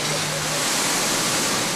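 Floodwater rushes through flooded streets during torrential rain, a dense, loud, unbroken roar of churning water with a faint low tone early on.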